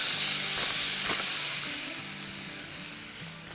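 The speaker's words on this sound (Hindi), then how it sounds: "और इस पर ये डाल देंगे चिकन।" Marinated chicken dropped into an oiled pan on a medium-high flame gives off a steady, close hiss of sizzling that fades slightly toward the end.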